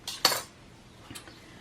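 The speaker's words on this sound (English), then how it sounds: "We're going to peel it with a potato peeler." A metal potato peeler scraping across a bar of handmade soap, with two quick raspy strokes near the start and a fainter third one a second later, close and quiet with no talking.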